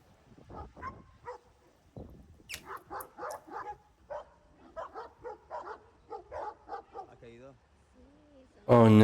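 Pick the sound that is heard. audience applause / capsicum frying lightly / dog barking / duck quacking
dog barking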